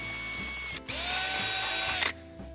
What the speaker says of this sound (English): And then we'll drill here.